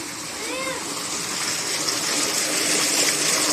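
Water gushes and splashes steadily from a spring feeding a well, a loud, continuous rushing close by, with a brief voice sounding faintly near the start.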